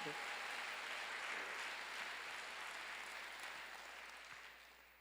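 Church congregation clapping during a Wednesday worship sermon, a steady dense wash of applause that fades slightly toward the end, with no voices over it.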